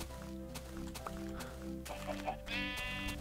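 Minecraft sheep bleat a few times over steady game background music, alone with no talk, the calls moderately loud and close.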